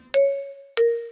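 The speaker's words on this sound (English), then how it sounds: "Peppa touches the bell, and it rings softly" Small bell struck twice, each a clear bright ding-dong chime ringing out and fading gently, close and alone.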